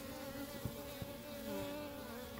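Steady insect buzzing from a mass of honeybees on a hive frame, a low droning hum with a few soft knocks, close and continuous.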